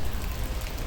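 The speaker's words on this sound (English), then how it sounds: "So much rain." Steady, dense rain pours down during a thunderstorm on a dark gray day, a continuous broadband hiss of drops close by with no speech.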